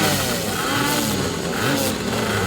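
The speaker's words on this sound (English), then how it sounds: "Bikes are on the grid. Revs are up." Racing motorcycles sit on the starting grid, their engines revving loudly and continuously in an overlapping, near roar.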